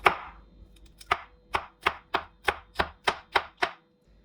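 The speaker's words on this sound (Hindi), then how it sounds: "ऐसे ही हम ग्रीन चिली काट लेंगे" A knife chops green chillies on a cutting board in about ten crisp, evenly spaced taps, each a sharp close knock with no talking.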